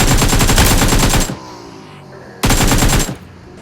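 Rapid automatic gunfire from the video game PUBG, two loud close bursts of machine-gun fire separated by a short pause, with no talking over it.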